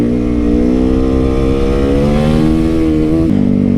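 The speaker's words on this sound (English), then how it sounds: "This is a custom 2019 YZ450 FX that I made into a street legal supermoto." A custom 2019 Yamaha YZ450 FX converted into a street-legal supermoto holds a loud, steady high-revving engine note up close, with a brief pitch drop near the end.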